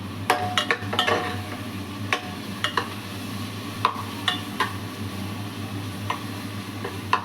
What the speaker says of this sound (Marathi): कांदा थोडा लाल होत आला की मग आलं लसूण ठेचा टाकून द्यायचा. परतून द्यायचं.